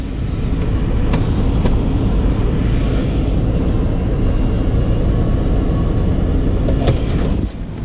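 A Buick being towed after running over a deer carcass runs with a steady, loud engine drone as it is put in gear, the rumble holding evenly before dropping off near the end.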